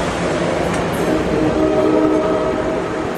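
A Coaster commuter train passes Santa Fe Depot behind engine 2101, a loud, steady rumble and rail roar with faint squealing tones, heard close and continuous throughout.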